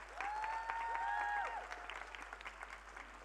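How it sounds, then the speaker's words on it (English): Faint audience applause for the parents at a Bharatanatyam arangetram, soft scattered clapping heard from a distance with a voice speaking over it, lasting only a few seconds. "A big round of applause for them."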